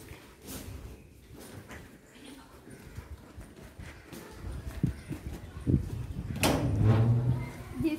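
Hooves of cows walking at a rural Pongal celebration in Thiruvallur, with scattered knocks and clops building louder toward the end amid background murmur and a low animal-like tone.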